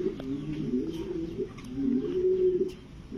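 Pigeons of fancy breeds such as teddy, pankhi and king cooing at a Bangladeshi pigeon farm, a soft, low, continuous burbling coo that rises and falls throughout at close range, with no talking.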